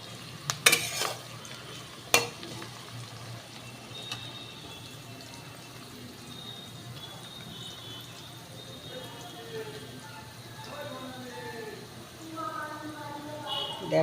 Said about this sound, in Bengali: পেঁয়াজটাকে একটু লাল করে ভাজবো।